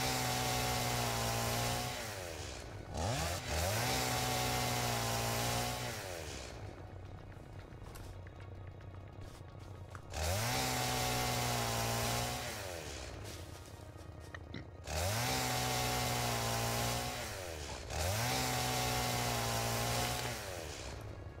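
A chainsaw in the video game Satisfactory cuts trees, its motor buzzing loudly in repeated surges that rise and fall in pitch, with shorter gaps between bursts.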